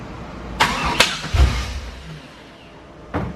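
A V8-swapped Honda S2000 engine cranking for its first startup: several sharp starter bursts in quick succession, a low rumble as it catches, then another short burst near the end.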